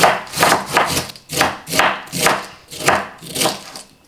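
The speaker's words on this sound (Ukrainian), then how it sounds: "я його ось так дрібненько ножиком насічу" A knife chops cabbage finely in quick rhythmic bursts, about eight clusters of sharp blade-on-board strikes, close and fairly loud, with no talking.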